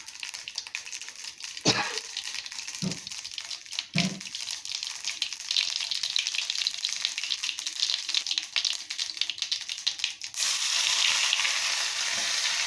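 Mustard seeds fry in hot oil for a Kerala-style kara kuzhambu, a steady crackling sizzle with scattered pops, close and moderately loud, and a few sharp knocks from a utensil early on.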